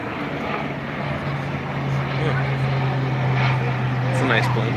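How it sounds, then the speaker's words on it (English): An airplane drones with a steady propeller-like hum that holds at an even, fairly loud level throughout, with faint voices in the background. "It's a nice plane."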